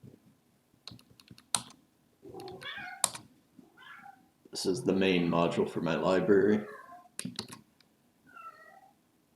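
A pet cat named Callie yowls insistently in several drawn-out, loud meows near the microphone, mixed with bursts of computer keyboard typing and someone talking in between.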